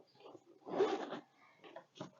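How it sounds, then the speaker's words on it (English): A double zipper on a bag is pulled open in a few short, soft rasping strokes, up close and quiet, with brief pauses between pulls. "it opens up so wide, or not, because it's got a double zipper"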